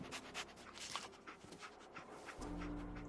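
A dog panting in the Fallout 4 video game, soft quick breaths with faint whimpers, followed by a louder steady low hum of game ambience in the final second.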